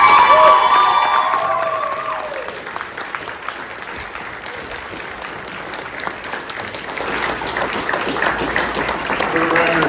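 A large audience at a district awards event cheers and applauds loudly, with a roaring burst at first that settles into sustained clapping and shouts, then swells again toward the end.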